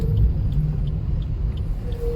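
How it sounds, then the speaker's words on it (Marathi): Low, steady rumble of cars idling and creeping in an evening traffic jam on the road to Alibag, heard from inside a vehicle with no clear horns or passing cars. "आता इथेच आम्हाला ट्रॅफिक लागलेलं दिसतंय"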